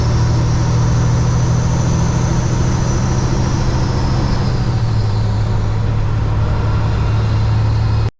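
Kenworth W900 truck with an 18-speed Eaton Fuller transmission, its engine droning loud and close through a downshift, a steady low rumble that dips partway and then settles again, no voices.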